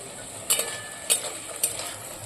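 Luchi and vegetables frying in oil during home cooking for a Gopal puja festival meal, a steady sizzle with three sharp scraping stirs at even intervals, close and alone.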